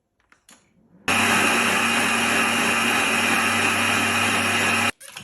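A Magimix Cook Expert runs its cream soup program on creamed tomato soup with white pepper and salt, a loud, steady motor whir with a bright high whine starting abruptly after a quiet lead-in and cutting off near the end.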